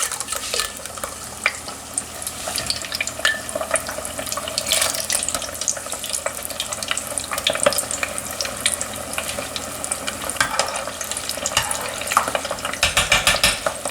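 Parched corn kernels fry in a small batch of grease heated to 400 degrees, giving a dense, continuous crackling sizzle with bright pops and occasional stirring scrapes throughout, and no talking.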